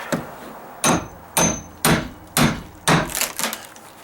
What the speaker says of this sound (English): Let's see if I can split it with my nail puller.